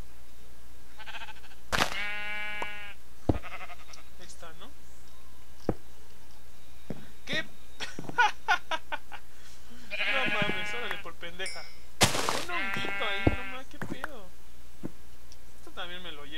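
Sheep bleat in the Minecraft video game, several separate wavering bleats spread across the stretch amid game clicks and ambience, with someone talking between them.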